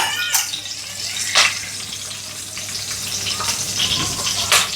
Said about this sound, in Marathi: जिरा, मोहरी, कढीपत्ता तेलामध्ये पडलेला आहे आणि तिघही नाचत आहेत.